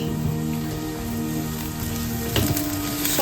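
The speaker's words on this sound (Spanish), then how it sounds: "Sofreímos un poquito" Onion and pepper sauté in rendered pork cheek fat, giving a steady, close sizzle with faint crackles throughout and a brief louder burst of spatter near the end.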